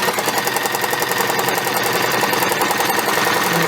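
A sewing machine free-motion stitching on water-dissolvable film in a hoop, a loud, fast, steady mechanical rattle of the needle running continuously up close, no talking.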